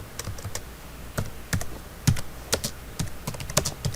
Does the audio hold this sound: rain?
no